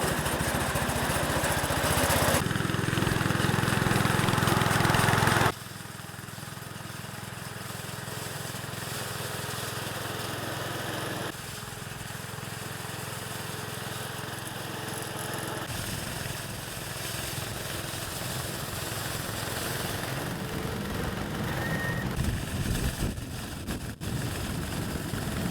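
A 50-year-old tractor engine runs steadily after a carburetor tune, a continuous loud mechanical drone that drops in level after a few seconds and then holds an even, slightly rough idle-like hum.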